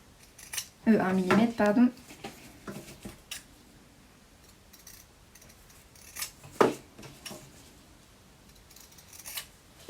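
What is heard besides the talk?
scissors cutting fabric edge of a face mask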